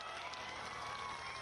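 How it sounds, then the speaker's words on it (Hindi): A crowd at a political rally in Balurghat applauds and cheers: dense, steady clapping with no pauses, heard briefly. "फिर भी तालियां बजाकर, नारे लगाकर जिस गर्मजोशी के साथ आपने स्वागत किया है"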